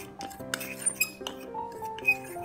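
Corn starch and black pepper breading being mixed in a bowl for fried pork chops, with light clinks of a utensil against glass in an uneven stirring rhythm, close and moderately quiet, with a faint musical tone behind it.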